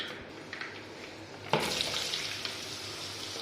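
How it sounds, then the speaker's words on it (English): Onion dropped into heated oil for an Arabic-style mutton biryani garnish: quiet background until a sudden burst of crackling sizzle that then settles into a steady fry, with no voices. "I put now onion, and this will fry in this oil"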